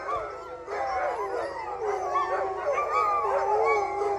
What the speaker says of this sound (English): Is that what you call howling at the moon?